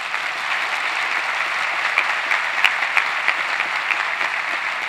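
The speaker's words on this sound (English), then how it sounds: "Let's give her another round of applause." Steady applause from a crowd at a college commencement ceremony, sustained clapping at an even level with a few sharper claps standing out, no voices above it.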